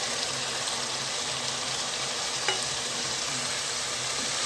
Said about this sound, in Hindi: इसको हमने अच्छी तरह 10 मिनट के लिए कम से कम भूनना है।